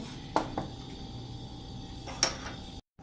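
Drained peanuts, 250 grams, tipped into a metal cooking vessel: a couple of light clattering knocks and a brief scrape against metal, quiet and close, with no voices.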